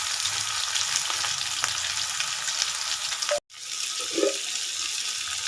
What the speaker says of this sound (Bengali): তেলটা গরম হয়ে গেছে, এর মধ্যে আমি দিয়ে দেব 2টো বড় সাইজের পেঁয়াজ কুচি।